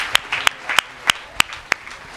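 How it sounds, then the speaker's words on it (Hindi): A church congregation at a Hindi prayer meeting claps in thanks, heard as a handful of sharp, evenly spaced claps, close and fairly loud, with no voices over them. "आप सब लोग जोर से ताली बजाकर प्रभु यीशु को धन्यवाद दीजिए"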